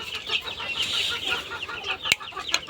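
Young hill chicken chicks on a farm, roughly a week old, keep up a continuous stream of high peeping and clucking close by, with a couple of brief sharp knocks near the end.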